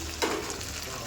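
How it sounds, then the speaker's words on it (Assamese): Chopped chilli, ginger and black cumin fry in hot ghee, giving a steady close sizzle with a brief stirring scrape near the start. "অলপমান ধুনীয়াকৈ এইখিনি লাহেকৈ ভাজি ল'ম"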